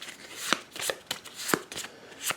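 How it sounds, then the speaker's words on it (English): A deck of game cards being shuffled at a tabletop, with several crisp riffling bursts repeating roughly every half second, close and fairly quiet. "And then we'll shuffle these ones up for next round."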